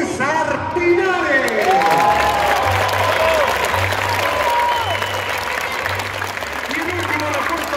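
A large crowd at Colo Colo's 2018 team presentation night in the stadium applauds and cheers for footballer César Pinares, a broad roar of clapping and shouts, with an announcer's amplified voice and a low rhythmic pulse beneath.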